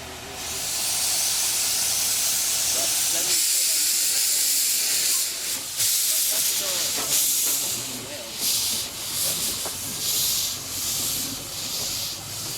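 Loud, continuous steam hissing from a steam locomotive on the WW&F railway fills the scene, with rubbing and chuffing bursts as the uncoupled engine runs around the passenger cars nearby.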